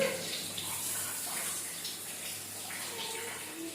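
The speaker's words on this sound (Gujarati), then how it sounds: "છાંટા ઉડે છે" A child being bathed outdoors, with water splashing and running in a continuous close wash, bright and fairly even throughout, with no clear voices.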